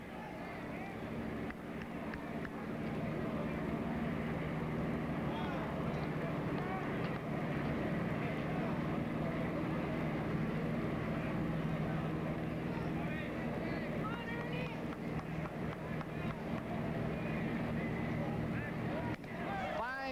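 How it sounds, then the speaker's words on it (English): Airplane towing a banner over a baseball ballpark during a 1984 Yankees–Blue Jays game, its engine droning steadily and faintly in the background under crowd noise and broadcast commentary. "there's a plane up there with a big banner in the back"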